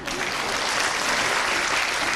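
Steady applause from an audience at a Quran course graduation ceremony, dense clapping that fills the whole moment at an even, sustained level without talk.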